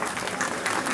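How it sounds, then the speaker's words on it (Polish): An outdoor crowd applauds the official guests at the opening of St. Dominic's Fair in Gdańsk, with dense, steady clapping from many hands throughout. "Żegnamy teraz brawami naszych oficjalnych gości"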